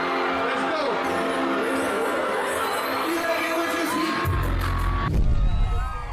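A Christmas concert crowd cheers and whoops loudly and continuously, a dense roar with a sharp bang and swelling low rumble near the end.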